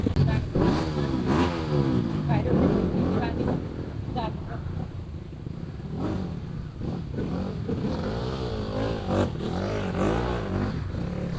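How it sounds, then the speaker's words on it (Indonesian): Trail motorcycle engine revving on a junior trail ride in Parangloe, Gowa, after the bike has fallen, rising and falling under ongoing talk nearby. "Semoga motornya bisa bunyi."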